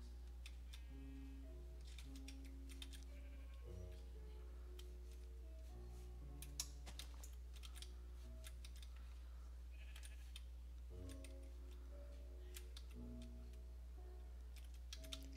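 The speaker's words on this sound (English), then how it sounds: "I'm just gonna get these sheep" Sheep bleat in the Minecraft video game, several short bleats spaced irregularly, quiet and over a constant low hum, with faint clicks like keyboard typing mixed in.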